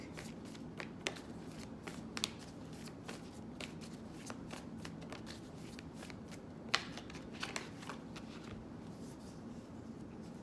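An oracle card deck is shuffled by hand in a quiet room, producing soft continuous riffling with frequent sharp card snaps and flicks, one especially crisp slap near the middle, all close and fairly faint with no talking.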